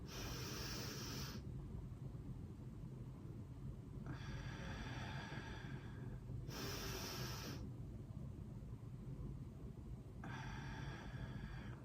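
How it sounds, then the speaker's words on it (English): Slow square breathing, with deep breaths in and out in long, even cycles separated by held pauses, close and soft over a low steady background hum. "So you breathe in for 4 seconds, hold it 4 seconds, breathe out 4 seconds"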